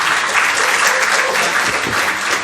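Audience applause at a December 2017 joint board meeting in Madison, New Jersey: dense, steady clapping from a room of people, loud and sustained throughout with no speech over it.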